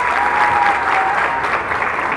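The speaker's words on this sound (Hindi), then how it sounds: "एक जोरदार ताली आप लोग खुद के लिए बजाइए" A crowd at a Jashn Bihar awards show claps loudly and continuously, a dense, sustained applause filling the hall throughout.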